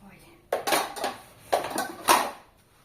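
Dirty cooking pot being scrubbed at a kitchen sink, heard as three short bursts of scraping and clattering metal, close and fairly loud, with quieter rustling between them.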